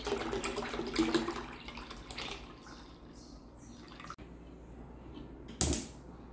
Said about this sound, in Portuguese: Nós vamos despejar o leite